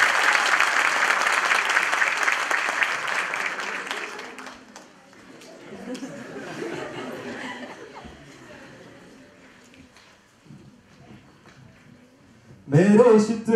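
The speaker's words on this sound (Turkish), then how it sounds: "alkışlarımızla tanıyor arkadaşlar" An audience at a Düzce University rector and student meeting applauds a lecturer with loud, dense clapping that fades over about four seconds, followed by low murmuring and a voice near the end.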